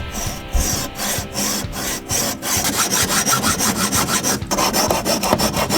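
A coping saw cuts through the factory plastic wheel flares of an 80 Series 4WD, with steady, rhythmic back-and-forth strokes that are close and loud and settle into a faster, even pace, with no talking.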